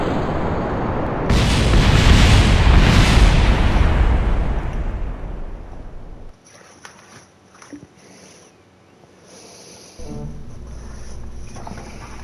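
A rocket engine ignites at launch in Kerbal Space Program with a loud, broad roar that holds for several seconds, then cuts off abruptly, leaving quieter clicks and low rumble.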